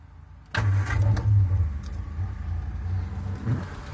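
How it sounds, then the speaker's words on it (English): A 1975 Triumph Spitfire with a four-speed overdrive gearbox cranks briefly and catches, settling into a loud, close, steady idle rumble, with a faint jingle of keys around the start. "Fires right up."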